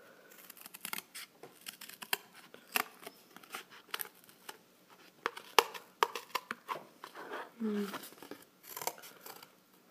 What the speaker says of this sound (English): let me see how these scissors do.